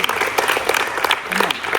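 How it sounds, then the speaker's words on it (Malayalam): Girls and others at a school self-defense class clap together in a brisk burst of applause, loud and close, with a voice speaking over it. "കയ്യടി"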